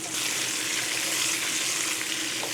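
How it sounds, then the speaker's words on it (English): Dried chiles are stirred and toasted in hot oil in a pan, giving a steady close sizzle and crackle that holds without a break, with no voices. "stir these up, get the oil kind of coated on them, toast it up"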